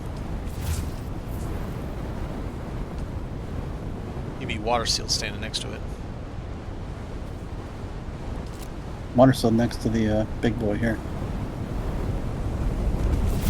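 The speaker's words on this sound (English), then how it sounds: "A large sandstorm is approaching." A large sandstorm in the video game Dune: Awakening gives off a steady, broad roar of wind that lasts the whole time, with voices talking over it in bursts.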